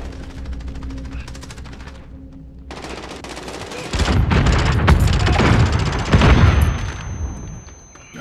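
Gunfire crackles in rapid bursts, then a heavy grenade explosion booms in Call of Duty Modern Warfare 2019, followed by more dense close gunfire and a second loud blast before fading.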